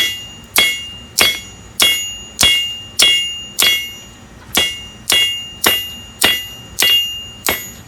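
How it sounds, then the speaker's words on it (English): A blacksmith brings a bigger hammer down on red-hot metal in twelve evenly spaced, ringing strikes about every two-thirds of a second, each a sharp metallic clang that rings out briefly, close and loud, with no talking. "I think I'll try the bigger hammer this time."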